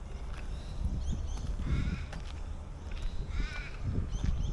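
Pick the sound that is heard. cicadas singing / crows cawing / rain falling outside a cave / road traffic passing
crows cawing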